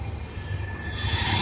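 Rameswaram Tambaram Express 16104 pulling out, wheels squealing loudly and continuously over a low rumble of rolling rail cars, the screech brightening and growing as the train gets moving.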